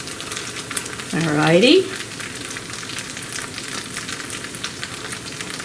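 Cheese sizzles and fries in a pan for pickles in a blanket, a steady hiss that swells briefly and then settles into a low background crackle while someone speaks.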